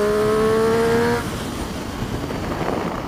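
A Triumph Street Triple RS motorcycle pulls hard in second gear at around 6,000 to 7,000 rpm. A loud rising engine note climbs for just over a second, then gives way to steady rushing wind and road noise.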